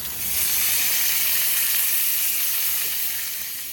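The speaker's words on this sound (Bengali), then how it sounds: "কাজু কিশমিশগুলো দিয়ে দেব," Cashews and raisins frying in ghee, a dense steady sizzle swelling at the start and easing slightly at the end, close and loud with no other sounds.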